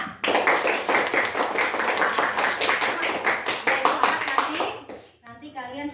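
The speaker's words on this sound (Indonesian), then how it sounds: "Tepuk tangan dulu untuk kita semua." Children in a fourth-grade classroom clap together in brisk, dense applause for about five seconds, then it stops abruptly and a voice speaks.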